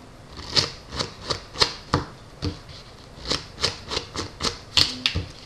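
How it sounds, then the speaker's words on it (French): A deck of playing cards being cut and cards drawn during a card magic trick: a close, steady series of crisp snaps, flicks and sliding rustles, with no talking. "Sortir, couper le jeu. Et je vais sortir 4 cartes au hasard du paquet."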